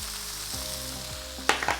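Food fries in a pan with roasted garlic spice sprinkled over it, a steady close sizzle with a couple of sharp scraping clicks near the end.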